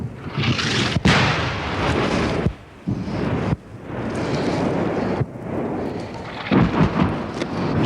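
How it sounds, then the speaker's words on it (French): French artillery shells exploding far off during the Algerian War, heard as repeated deep, rolling booms that merge into a continuous rumble with wind buffeting the microphone. "Ça tombe loin d'ici pour le moment? Loin d'ici, ouais."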